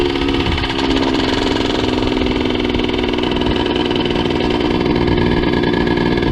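A cheap moped's engine runs loud and close, with a steady, buzzing drone that holds an even pitch throughout and no break or pause.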